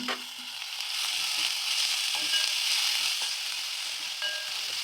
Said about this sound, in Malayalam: നമ്മൾ കുഞ്ഞതായിട്ട് അരിഞ്ഞ സവോള ഒരെണ്ണമാണ് എടുത്തിരിക്കുന്നത് അതുകൂടി അതിലേക്ക് ഇട്ട് കൊടുക്കാം